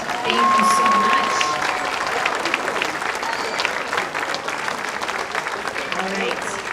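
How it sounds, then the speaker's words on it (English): Audience applause at a junior high spring band concert: steady, dense clapping from a crowd fills the whole stretch at even loudness, with a few faint voices and whoops mixed in. "how about another round of applause for our Period 8 band?"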